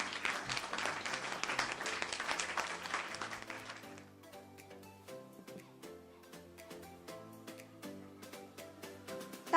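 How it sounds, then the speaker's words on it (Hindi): Audience applause for Preeti Jatav, the sketch artist, at the Vimukti Sanstha annual event: a dense burst of clapping for about four seconds that cuts off, then quieter tonal music continues under it. "तालियां बजाते रहिए।"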